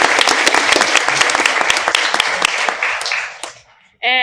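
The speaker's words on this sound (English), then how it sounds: "So round of applause to Mrs." An audience at a school board meeting applauds a teacher, with crisp, dense clapping that tapers off. A short burst of voice or sound cuts in at the very end.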